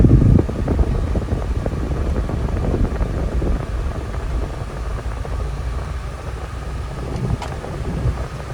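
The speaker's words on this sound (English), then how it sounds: "We'll get the air blowing in this car" Steady broadband whooshing of a car air conditioning fan blowing air inside a 1950 Ford Custom, continuous and fairly loud with a low rumble underneath, no voices.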